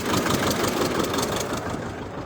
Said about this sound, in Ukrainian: Я дивлюсь, цей трактор палькотить, палькотить.